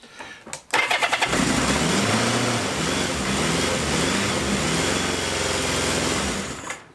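A Kawasaki KZ650 motorcycle engine, started cold, cranks briefly with a rapid starter whir, then catches and settles into a loud, steady idle close by.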